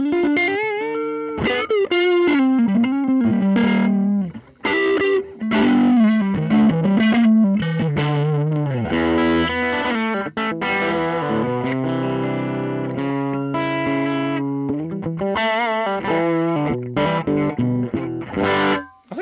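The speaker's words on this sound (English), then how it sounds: "That's a pretty groovy sound." Electric guitar played through a Valeton GP-200LT multi-effects patch with a 2x10 open-back cabinet simulation, a loud, distorted and effect-laden tone running steadily through chords and melodic runs for the whole stretch, with no talking.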